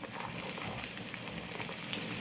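Onions frying in hot oil in a pan, a steady, even sizzle with soft crackling, fairly quiet and without talk over it.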